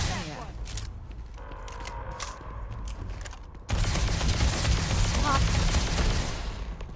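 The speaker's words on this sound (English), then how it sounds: "stop moving around so I can shoot you" Gunfire in Starfield, a scattering of sharp shots early on, then a loud sustained burst of firing over the second half amid game noise and voices.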